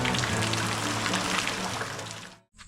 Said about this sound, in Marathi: आज सुरुवात करते पाऊस पडायला घरात येऊन बसलोय आम्ही पाऊस जातोय का वाट बघतोय